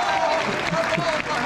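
An audience claps for fans at a 25th anniversary show of the soap Salatut elämät, a brief burst of dense applause with crowd voices mixed in.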